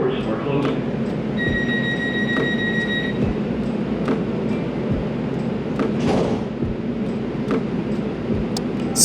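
LA Metro Rail train pulling away from a platform, a steady loud rumble with rail hiss and brief door clunks, a short electronic chime tone near the start, and a voice announcement over the noise.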